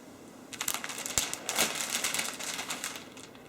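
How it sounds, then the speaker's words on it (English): Cellophane wrap crinkles and rustles while being adjusted over the top of a candle gift basket, a close, busy run of crackly bursts with no talk. "Be very careful with your cellophane."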